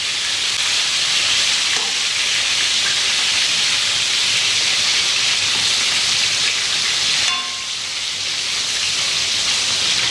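Beef pieces for Mongolian beef fry in a hot pan with a steady, loud, close sizzle and hiss that carries on without a break.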